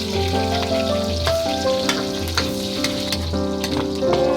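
Chopped onions sautéing in hot oil in a home kitchen give a steady, close sizzle that runs throughout, partly masked by tonal background music with no talking.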